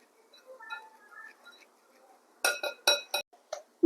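Gram flour and maida being mixed in a bowl for a broccoli snack batter: a few sharp clinks and scrapes of a utensil against the bowl in a quick cluster, near and fairly loud, after a quiet stretch of soft handling.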